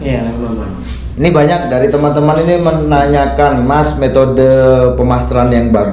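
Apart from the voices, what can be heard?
No everyday noise stands out behind the speech.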